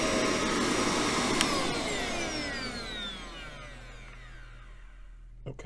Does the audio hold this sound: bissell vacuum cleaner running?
yes